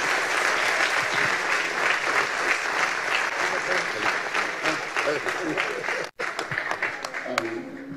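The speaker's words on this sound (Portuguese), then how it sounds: "Uma salva de palmas, recebendo o pastor Alex, com a mensagem da palavra de Deus" A church congregation applauds to welcome Pastor Alex at an Assembleia de Deus service in Vila Alpina, with sustained, dense clapping filling the room and a brief dropout near the end before the clapping resumes.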